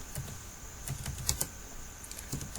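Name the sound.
typing on a computer keyboard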